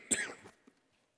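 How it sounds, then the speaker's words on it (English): A single sharp cough with a throat-clearing rasp bursts out close by, then trails off into quiet with a brief click at the end. "I'm going to cough and hack through this whole thing"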